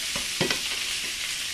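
Chopped salmon sizzles steadily in a pan, a constant frying hiss with a few brief stirring scrapes near the start, fairly close and with no talking.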